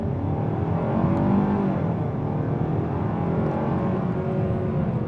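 A 2026 Hyundai Sonata SEL Sport with a 2.5-liter engine accelerating hard off the line, its engine note rising steadily and droning loudly from inside the cabin, with no voices.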